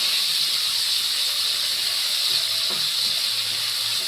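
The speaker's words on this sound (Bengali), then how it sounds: "এই মাছ খুব বেশি ভাজবো না, ডালনা বেশি ভাজবো শক্ত শক্ত হয়ে যাবে।" Fish frying in a pan, a loud continuous hiss of sizzling oil that stays even throughout with no voices.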